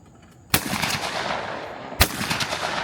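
Two loud, close shotgun blasts ring out at clay targets on an outdoor shooting range, about a second and a half apart, each followed by a fading echo.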